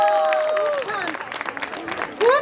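Modest audience applause at a Makar Sankranti program, a soft rustle of clapping heard under and between a singing-toned voice speaking over it.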